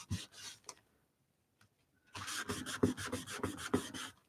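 Tissue rubbing marks off a small artist trading card, first a short stroke, then after a pause a quick run of brisk, close, rhythmic rasping strokes, loud and without speech.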